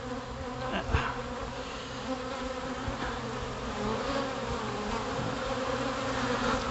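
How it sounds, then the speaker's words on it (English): A dense, continuous buzz of a honey bee swarm fills the air, steady and close, with individual bees droning past now and then. "it's not uncommon to see male bees in a swarm"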